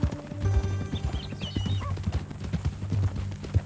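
Horse hooves clip-clop steadily at a walking pace in Red Dead Redemption 2, close and clear, with a brief whinny and low background game sounds.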